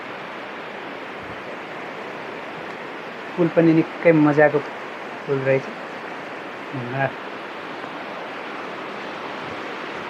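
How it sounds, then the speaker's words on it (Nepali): A large, swollen river flows beneath a bridge in the hills of Nepal, a steady broad rush of water that fills the background throughout while someone speaks in short bursts over it. "नदी पनि ठुलो छ, बढेको छ।"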